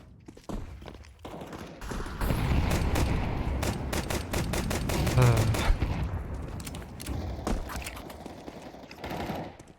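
Pistol gunfire in a competitive esports match, sounding as a dense run of sharp, rapid shots and pops that cluster and overlap through most of the stretch, with thuds and footsteps mixed in and steady background noise.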